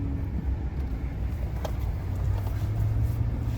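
Steady low engine and road rumble from inside a 2025 Chevrolet Silverado ZR2 pickup truck as it drives and turns around, continuous and fairly loud with no talking.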